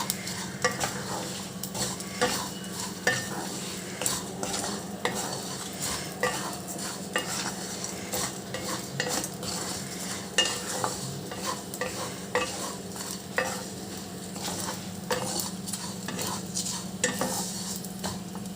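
Gobindobhog rice frying in ghee in a pan for payesh, a steady soft sizzle under continuous scraping and stirring of a spoon against the pan, close and even throughout with no voices.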